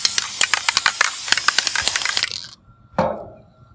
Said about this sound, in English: I can spray it with this Krylon Crystal Clear. It's an acrylic coating.